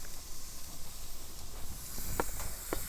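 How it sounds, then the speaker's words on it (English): Raw shrimp searing on a hot grill, giving a steady broadband hiss with a few brief crackles and pops near the end, close and fairly quiet, with no talking. "Now we're going to put our shrimp on, and these guys cook really fast. So we'll put them on the grill"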